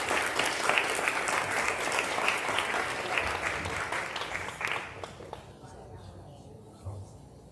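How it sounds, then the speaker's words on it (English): An outdoor crowd at a historical marker unveiling ceremony applauds steadily, the clapping thinning and fading out after about five seconds, leaving faint ambient noise. "So let's give them a round of applause."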